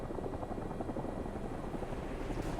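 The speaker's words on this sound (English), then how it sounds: "Yeah, I don't want the helicopters too loud." Steady helicopter rotor drone as background ambience for a Shadows of Brimstone tabletop board game session, a continuous pulsing whir held at a moderate, even level with no talk over it.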